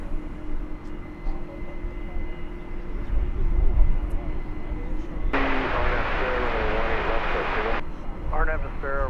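An airliner takes off from DFW Airport, its engine roar rising and holding as a broad, loud rush from the distance, with a brief whine partway through and a voice nearby.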